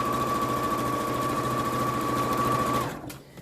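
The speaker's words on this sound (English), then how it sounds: "sew that all the way around to the end, over the top of your lovely French seams at the side" A sewing machine stitches a scrub bag around its French seams, a continuous fast whirring hum running close and steady before stopping abruptly near the end, with no talk.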